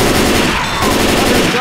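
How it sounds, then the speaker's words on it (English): Rapid automatic gunfire in the zombie shooter game Left 4 Dead, loud and close, a dense unbroken burst of shots lasting under two seconds. "Stop shooting me!"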